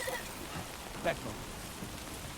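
Timefall rain in the Death Stranding 2 video game patters as a steady, soft hiss of rain on surfaces, low and even throughout with one brief brighter drop-like tick.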